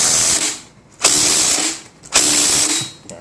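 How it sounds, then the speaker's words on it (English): A ratchet cranks a flywheel puller on a Yamaha Waverunner engine, three loud, close bursts of rapid clicking separated by short pauses as the wrench is swung back. "Alright, so first ratchet attempt."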